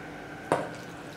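A single quick splash of water lands in a bowl of batata wada spice batter made with gram flour, turmeric and chili, a brief wet plop against a quiet kitchen background.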